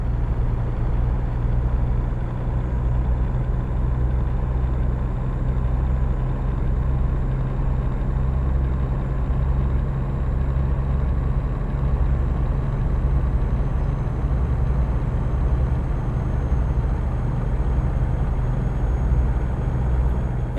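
Steady low engine drone of a truck driving in American Truck Simulator, a constant deep rumble with a heavy low-end hum that holds unchanged for about twenty seconds with no voices.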